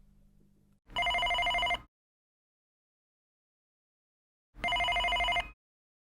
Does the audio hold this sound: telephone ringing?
yes